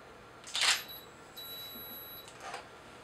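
A Nikon D5200 camera triggers a remote-controlled external flash: a quiet shutter click, then a faint high electronic whine of the flash recharging, and a second soft click, all close and with no talking.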